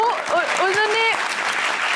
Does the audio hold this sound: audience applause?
yes